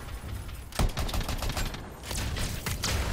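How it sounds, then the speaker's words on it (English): Rapid bursts of gunfire from Anthem combat, with dense repeated shots in quick succession at a fairly steady level over about three seconds, without voices. "Keep shooting him, keep shooting him"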